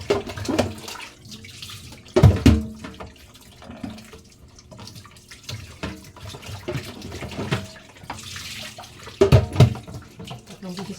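Tap water runs steadily over tilapia being washed by hand at a kitchen sink, with louder splashes and handling noises in bursts near the start and around the ninth second.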